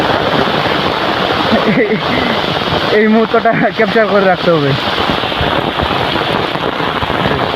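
Heavy downpour in a rural village: a loud, steady broadband roar of rain that persists from start to finish, with someone talking briefly over it midway.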